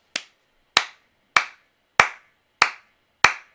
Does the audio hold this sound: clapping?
yes